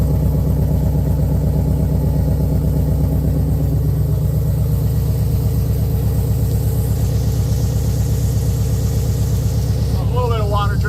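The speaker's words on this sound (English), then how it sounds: "Yeah, that's the Camaro. She's idling happily." A Chevrolet Camaro SS with a factory LS6 intake and throttle body, SLP intake and SLP exhaust idles steadily and loudly up close, a deep even burble throughout, with a brief voice near the end.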